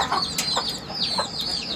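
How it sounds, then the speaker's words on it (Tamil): Four-month-old chicks and young chickens cluck and chirp with repeated short calls close by, with no talking. "இதெல்லாம் பார்த்திங்கன்னா ஒரு 4 மாதம் கோழி குஞ்சு தாங்க"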